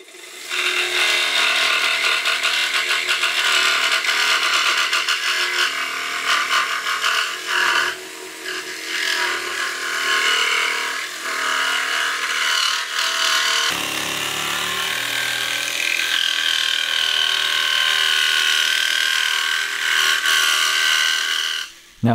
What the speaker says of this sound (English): I get a nice fine small blade that can do tight curves, put in the jigsaw